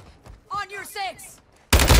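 Brief Call of Duty Modern Warfare 2 gunfire erupts as a loud burst at the end, after short spoken callouts heard over quiet game ambience.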